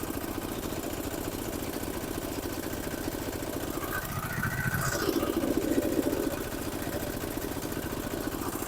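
A diesel rotary tiller engine runs at a steady idle with a constant low throbbing beat that swells briefly in the middle before settling back, close and continuous.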